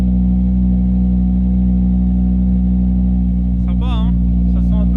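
A car engine on the Nürburgring Nordschleife runs loud and close with a steady, deep idling hum, and a short voice cuts in near the end over the continuous drone.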